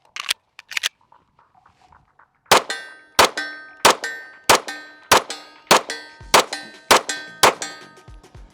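Rifle shots fired with a Holosun 507comp red dot mounted after drop testing, ringing off a steel target about 50 yards away: a few scattered early cracks, then ten or so evenly spaced loud shot-and-clang impacts with metallic ring.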